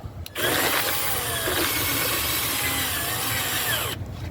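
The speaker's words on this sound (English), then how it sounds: "I'm just gonna ream the hole a little bit," A power drill reams out a hole in a steady continuous whine and rasp lasting about four seconds, loud and close, with the motor starting abruptly and cutting off near the end.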